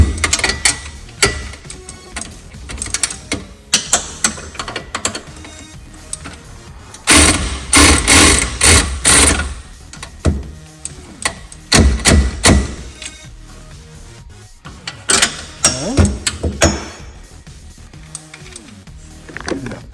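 Bolts, 13mm, being tightened while an MBRP exhaust goes onto a 2023 Can-Am Defender XMR: close mechanical clicks, thumps and rattling bursts of tool work in uneven clusters, loud and near, with no talk.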